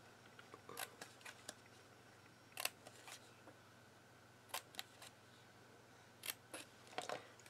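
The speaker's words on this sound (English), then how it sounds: "Then we're going to take our scissors and we're just going to snip up" Scissors snip a 3D acorn craft in short, crisp cuts that come in small clusters with pauses between, close up against a quiet steady room hum.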